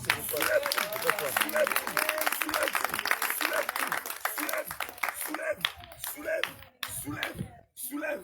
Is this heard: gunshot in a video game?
no